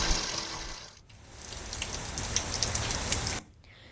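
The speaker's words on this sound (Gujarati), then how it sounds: "છેલ્લા 1 કલાકથી ધીમી ધારે અહીંયા વરસાદ ચાલુ છે" Steady light monsoon rain in a rural village area of Dwarka, Gujarat, a dense even patter of drops on surfaces with a short quieter dip partway through, continuous and close with no voices.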